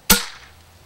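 A single sharp crack from a Hatsan BT65 SB Elite .25 caliber air rifle firing outdoors, loud and close, with a brief decaying tail.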